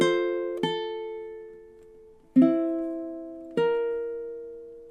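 A ukulele strums a funky measure from a song: four separate strummed chords in a syncopated rhythm, each ringing out and slowly decaying, close and clear with no voices.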